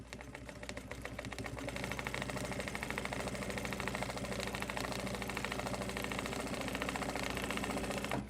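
An industrial sewing machine runs continuously while quilting, with a dense and even rapid stitch rhythm for about eight seconds. The sound is steady and close, and there is no talk.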